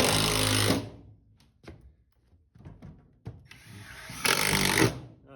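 A power driver sinks screws into the bed of a 1961 Chevy C10 pickup, giving loud whirring bursts at the start and end with short clicks and brief spins in between, all close up.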